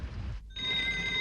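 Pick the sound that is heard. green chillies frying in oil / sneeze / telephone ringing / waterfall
telephone ringing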